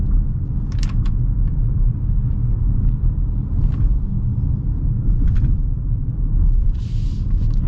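A 2026 Kia Sportage X-Line crossing road bumps gives a steady, loud low rumble of tyres and cabin noise, with a few faint thumps and rattles over the bumps and no one talking.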